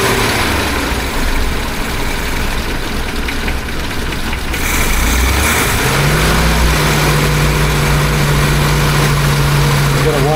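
A carbureted engine in a 1976 BMW 2002 idles as it warms up, a steady low rumble that steps up and settles into a firmer, higher idle partway through, with some background noise over it.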